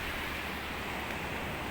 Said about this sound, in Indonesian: Pantai Ujung Bate